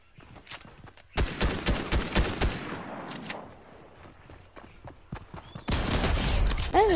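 Shotgun fire in the video game Fortnite comes as loud bursts of rapid shots separated by quieter gaps, ending in a heavy final volley.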